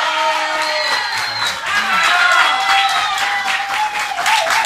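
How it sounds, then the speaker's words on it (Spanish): Studio audience applauds loudly and steadily on a 1993 Spanish-language TV variety show, with dense clapping and some cheering sustained for several seconds. "Fuerte el aplauso para Herman González."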